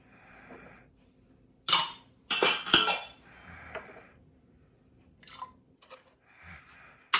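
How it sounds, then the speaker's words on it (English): Egg and wet ingredients for mocha chip cookie scones get stirred in a bowl, with sharp utensil clinks and scraping bursts separated by quiet pauses, close and clear. "Then you mix all the egg, all the wet ingredients."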